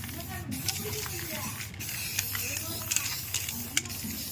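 Close, hissing bursts from an aerosol spray can painting a Honda Activa scooter's silencer guard, repeated in short sprays while someone talks over them.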